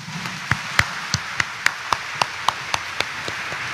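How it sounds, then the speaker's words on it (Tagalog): Sparse, separate claps from a church congregation, about a dozen sharp hand strikes spaced irregularly over a few seconds, fairly close with a quiet room background and no talking. "pumalakpak ng mas malakas"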